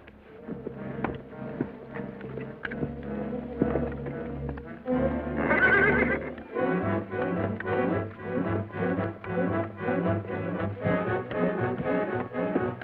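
A horse whinnies and snorts loudly while its hooves clip-clop in a rapid, rhythmic gallop as a cowboy rides it in an old Western film, the neigh rising midway and steady hoofbeats continuing close and prominent to the end.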